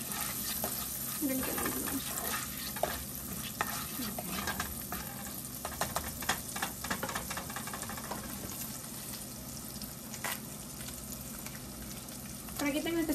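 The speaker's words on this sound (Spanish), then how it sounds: "le voy a dejar que se siga sofriendo." Chili con carne with oregano sautéing in a pan, a steady dense sizzle with occasional stirring clatter throughout, while a voice speaks briefly over it.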